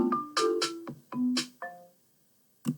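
A short synthesized melody played back in the Song Maker web music tool: a handful of bright, tonal notes in a quick, uneven rhythm with gaps between them, clean and close, followed by a pause and one final note.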